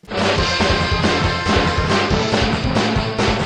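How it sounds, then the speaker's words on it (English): A loud acoustic drum kit played steadily, with punchy kick and snare hits under washing cymbals throughout. "look at these YouTube videos where people play acoustic sets. And it sounds like this."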